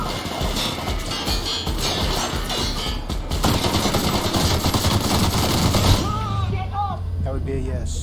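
Enemies fire on the player in the video game The Outer Worlds, producing dense rapid bursts of gunfire and crackling shots that are loud and continuous for several seconds, then ease off, with game sound beneath and a voice briefly speaking.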